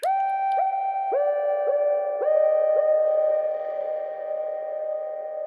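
Massive synth patch with a delay effect: bright, buzzy sustained notes with rich harmonics, each new note entering every half second or so while echoes of earlier ones overlap and ring on.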